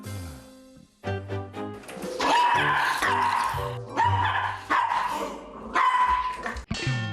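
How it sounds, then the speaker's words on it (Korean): A pet dog barks and growls at a man in a home, with repeated sharp barks and snarls close by, loud and agitated, with music or other sound running underneath. "여전히 분이 안 풀렸는지 남편을 향해 으르렁대는 녀석."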